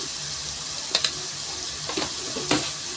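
Gongura chicken curry frying in a pan, a steady broadband sizzle running throughout with a few brief clinks or stirring knocks near the start and end, no voices.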